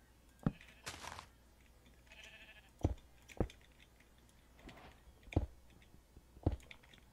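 Sheep bleating in Minecraft, several short separate bleats heard alone and fairly close, mixed with sharp clicks and a few brief soft sounds.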